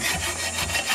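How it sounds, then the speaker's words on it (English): A hacksaw cuts through a length of aluminum Rockler T-track for a crosscut sled, with steady rasping strokes close by and no talking. "Next, I mark the length of the track I need and cut it using a hacksaw."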